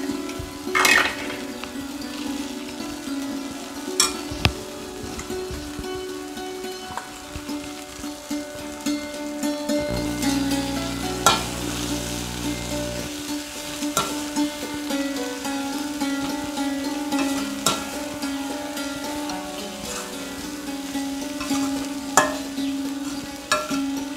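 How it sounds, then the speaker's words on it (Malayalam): Crushed coconut being stirred into frying kayathondu (plantain peel) and bean thoran in a pan: steady sizzling under repeated scraping and stirring with a utensil, plus occasional clinks of metal against the pan, with no talk. "ഇതിലേക്ക് നമ്മുടെ നാളികേരം ചതച്ചത് ചേർക്കാം."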